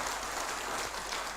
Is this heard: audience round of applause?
yes